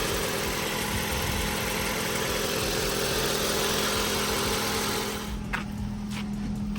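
A Ford Focus engine idles on a cold start with a steady, close mechanical hum, and a few faint knocks and clicks appear near the end.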